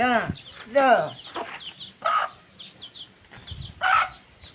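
A chicken clucks and squawks up close in a few loud, separate bursts, with a voice briefly mixed in.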